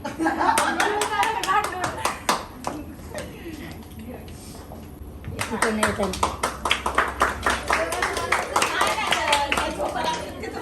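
An audience at a student graduation day bursts into dense, lively applause that dies down briefly and then swells again, with voices speaking over the clapping.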